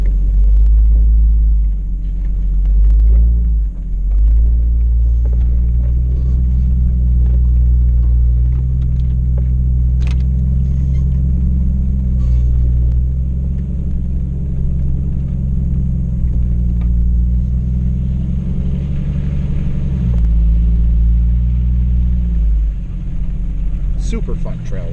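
A vehicle crawls over a rough, rocky canyon trail at Eldorado Canyon, its engine giving a loud, steady low rumble that rises and dips slightly with the terrain.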